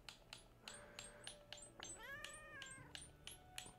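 Cat meows from the Puzzlpet puzzle game, several short mews in quick succession with a longer rising-falling meow in the middle, clear and alone over faint repeated ticking game sounds.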